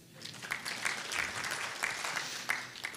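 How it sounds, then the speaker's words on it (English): Conference audience at an Authorized Economic Operator event gives a round of applause, moderate clapping from a room of people with a few sharper claps standing out, heard at some distance. "we'll still give you a round of applause"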